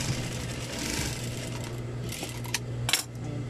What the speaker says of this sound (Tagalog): Papasadahan natin yung tahi natin dyan na una.